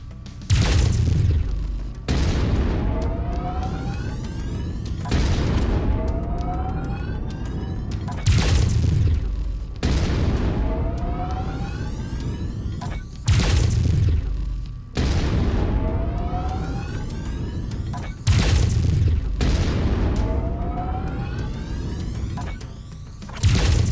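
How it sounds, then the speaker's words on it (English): Mech weapons in MechWarrior 5 blast at a mech cockpit in a regular series of heavy booming impacts every few seconds, each followed by a rumbling tail and rising whine, loud and close. "Go ahead and try shooting the cockpit."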